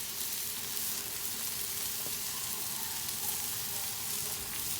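Garlic sizzles steadily in a hot pan while Thai chicken noodles cook, a dense, even frying hiss with no talk over it.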